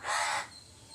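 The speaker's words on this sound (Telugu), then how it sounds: "లైవ్ పెడితే నా సౌండ్ కంటే కాకి అరుపులు ఎక్కువ ఉంటాయి" A single crow gives one loud, harsh caw close by, brief and alone.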